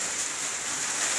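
Rain falling steadily as a continuous, even hiss, moderately loud and close, with no talk and no distinct drops standing out.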